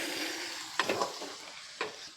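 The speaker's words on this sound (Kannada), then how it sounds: "ನಮ್ಮವ್ವ ತತ್ತಿ ಪಲ್ಯ ಮಾಡತ್ತಾಳ" Egg curry frying in a pan with a steady soft sizzle, broken by a few distinct scraping stirs of a spoon against the pan, close by with no talking.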